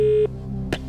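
A telephone dial tone on a quiz show's call-a-friend line hums loudly for a moment, then cuts to a lower hum broken by a brief click, with no speech.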